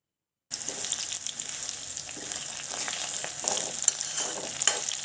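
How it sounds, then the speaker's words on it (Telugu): Green chillies frying in a pan, a continuous bright sizzle and crackle with scattered pops, fairly close and steady, starting after a brief silence and running alone without talk. "చూడండి పచ్చిమిర్చి బాగా వేగాయి కదా"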